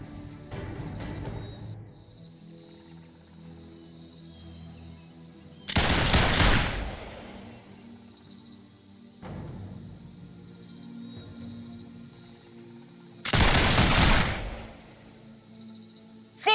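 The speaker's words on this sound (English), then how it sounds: "Full volley!" Handgunners fire a full volley in the Warhammer: Mark of Chaos strategy game, loud crackling gunfire bursts erupting twice, each about a second long, over a quiet game ambience.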